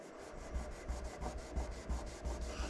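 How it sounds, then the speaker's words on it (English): Adhesive residue is rubbed off a surface with a removal product in steady, gentle back-and-forth strokes, a soft, quiet scrubbing that repeats at a regular rhythm roughly five times a second. "Let's try a little bit more rubbing."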